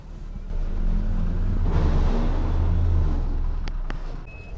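Road traffic rolls into the bus station at Vithura, Kerala, a steady engine rumble from nearby vehicles swelling and easing, with a couple of short sharp hisses near the end and no talk.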